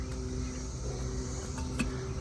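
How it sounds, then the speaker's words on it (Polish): A steady, high insect drone hangs over the scene with no break, fairly faint and even, like cicadas buzzing in the distance. "Cykady nie przestają, ale na razie jeszcze jest w miarę cicho."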